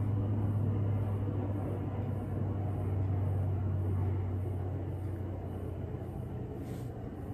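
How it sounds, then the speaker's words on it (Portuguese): Low-flying airplane passing overhead as a steady, loud broadband rumble with a strong low drone that holds throughout, no voices present. "Peraí que tem um avião voando bem baixinho aqui."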